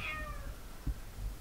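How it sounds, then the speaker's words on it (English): A cat meows faintly once at the start, short and fading, on a farm, followed by low rumbling noise and a soft thump. "Meow. Kitty. Meow. Where you at?"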